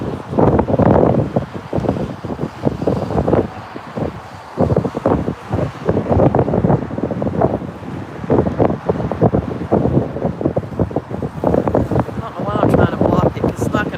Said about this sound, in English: Now the wind's picked back up. I'm sure y'all can hear that.